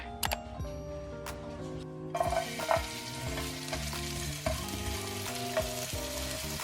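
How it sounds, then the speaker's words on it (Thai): Kimchi fried rice ingredients start sizzling in a pan partway through, with repeated scraping and tossing strokes of stirring over soft background music. "เดี๋ยวเราจะเอาไปลงกระทะผัดเลยนะ"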